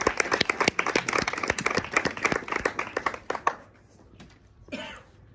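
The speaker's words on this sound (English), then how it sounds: "Let's give him a big round of applause." Audience applause at a fringe festival performance, a crowd of dense hand claps that fades out after about three seconds, leaving quiet room tone and a faint voice near the end.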